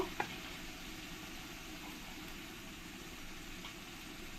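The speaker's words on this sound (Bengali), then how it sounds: "এবার আমি এই পেঁয়াজ পেস্টের মধ্যে দিয়ে দেব আদা রসুন আর কাঁচা লঙ্কা পেস্ট" Ginger, garlic and green chili paste sizzling in onion paste in a pan for chicken with curd, giving a soft, steady crackling hiss throughout with a couple of faint clicks.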